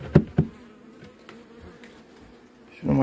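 Honey bees hum around an opened hive during a November brood check, a low steady drone with two sharp close buzzes near the start and another loud pass at the end.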